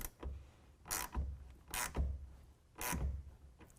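A tonneau cover clamp being tightened on a 2017 Ford F-150, quiet rhythmic creaking ratchet strokes, four in a row at even spacing, close and with no talk.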